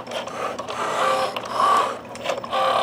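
A Cricut Joy cutting machine slicing slits into a card makes a close mechanical whir with quick stop-start motor buzzes and small clicks, a short busy burst with no talk.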